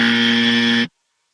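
A loud, harsh electronic buzzer blares steadily for under a second, then cuts off abruptly into silence.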